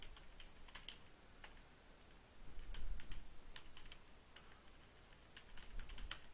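Quiet keystrokes on a computer keyboard as a password is entered, a sparse run of soft clicks in irregular bursts over low room hum, close and faint with no voices.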